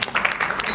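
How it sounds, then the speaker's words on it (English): Brief burst of audience clapping for awardees at an honorary doctorate ceremony, a dense patter of many hands lasting under a second. "a special round of applause for all the awardees"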